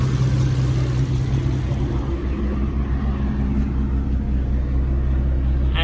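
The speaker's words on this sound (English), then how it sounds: "I've had the car on for about 5 minutes already." A Nissan 350Z engine, fitted with a new Mishimoto radiator and warmed up for about five minutes, runs at a steady, loud, close idle with a deep, even rumble.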